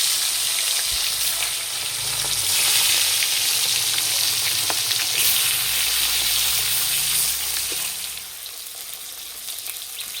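Steady, loud sizzling of tilapia fish frying in hot mustard oil in a wok, a continuous crackling hiss that eases slightly near the end.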